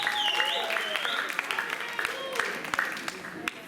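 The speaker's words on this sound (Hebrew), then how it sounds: "המתמודדים שמוחאים לעצמם כפיים עכשיו" Yeshiva high school students clap for themselves at an end-of-year performance, a steady patter of applause from a sizeable group heard under a voice.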